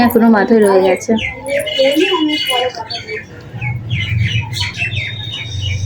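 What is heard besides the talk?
birds chirping outside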